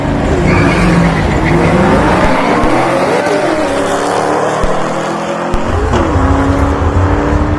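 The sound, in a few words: Audi and Mustang drag race cars racing down the strip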